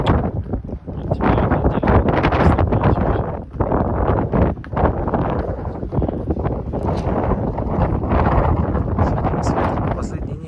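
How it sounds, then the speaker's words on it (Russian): Cold, gusty early-March wind blows across an open farmyard with horses, buffeting the microphone in loud rumbling gusts that rise and fall continuously, with a brief lull near the start. "Последние дни почему-то прохладно, ветрено."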